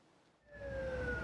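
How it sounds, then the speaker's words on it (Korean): A fire truck siren wails in from about halfway through, steady and fairly loud over low traffic rumble, its tone sliding slowly downward. "긴급 출동에 나선 소방차."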